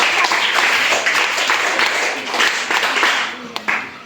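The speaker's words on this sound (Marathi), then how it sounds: "निलेशसाठी सगळ्यांनी टाळ्या" Schoolchildren applaud a student at a primary school quiz event, a dense, steady wash of many small hands clapping together for about four seconds, fairly close and loud.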